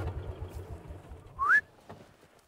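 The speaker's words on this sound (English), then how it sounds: "But I just whistle for them" A single short rising whistle from a person calling livestock guardian dogs on a farm, loud and close over faint background rumble and scattered low noise.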